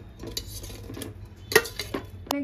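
Potatoes tumble into a pot of cooking mutton, giving a scatter of close clinks and knocks against metal, with one sharper clatter in the middle and another near the end.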